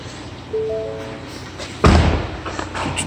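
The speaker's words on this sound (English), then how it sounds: "Open up the trunk." Trunk lid of a 2018 Ford Mustang EcoBoost Premium opening with a single firm thud close by, preceded by a faint electronic tone and followed by a quieter rattle as the lid settles.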